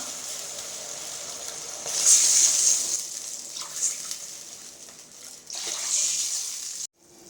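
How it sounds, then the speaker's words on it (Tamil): Three cups of water pour and splash steadily into a pan of sautéed ingredients for upma, a hissy rushing sound with brief surges, ending abruptly. "இப்போ மூணு கப் தண்ணி விட்டுக்கலாம்"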